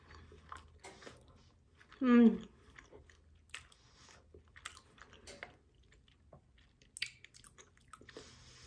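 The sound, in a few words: biting and chewing freshly baked oat, zucchini and chocolate cookies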